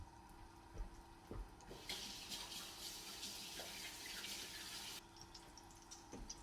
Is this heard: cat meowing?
no